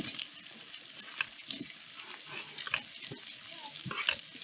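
Tomatoes frying with sautéed onions in a pan for vegetable biryani, a soft sizzle under light stirring with a few scraping clinks of a spoon against the pan, fairly quiet and close.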